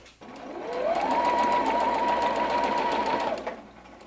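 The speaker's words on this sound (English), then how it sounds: "Let's sew this piece together and we'll add the outside pieces to form that little triangle." A sewing machine runs steadily for about two seconds, stitching quarter-inch seams to piece a quilt block. It starts up, holds an even, close mechanical hum and then winds down, with no one talking.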